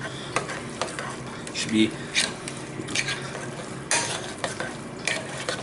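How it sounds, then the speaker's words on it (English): Masa dough for tamales is stirred and mixed into a wet paste, giving moist squelching scrapes and knocks of a utensil against the bowl in uneven bursts, with a brief voice over part of it. "Just going to stir this up so we got a nice masa paste"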